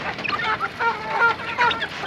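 A flock of chickens eating their afternoon feed, a busy mix of overlapping soft clucks and squeaky calls at close to moderate distance, continuous with no speech.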